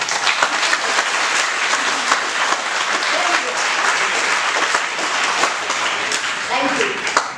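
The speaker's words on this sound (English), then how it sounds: "would you like to clap now?" A seminar audience at an effective communication skills workshop breaks into sustained, loud, dense clapping that holds steady throughout, with faint voices mixed in.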